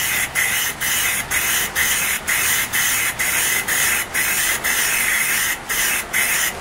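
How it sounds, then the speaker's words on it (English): Loud, continuous hiss of a spray gun painting a computer case, broken by brief regular pauses as each pass ends, repeating in a steady rhythm. "We're going to continue on spraying just like we just did before."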